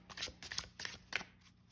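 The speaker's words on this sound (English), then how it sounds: "I think I'm going to shuffle and just do a little sample reading" A tarot deck is shuffled hand over hand, four soft, close bursts of card riffling spaced evenly apart, quiet and with no voices.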